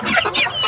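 Chickens cluck close by in a backyard coop in the Philippines, sounding as a series of short, overlapping clucks across a brief, steady moment with no talk.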